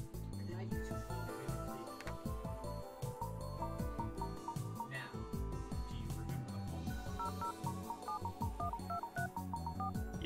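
Telephone keypad tones beep one after another as a number is dialed in the game Famicom Detective Club, a rapid series of short electronic beeps laid over steady background music.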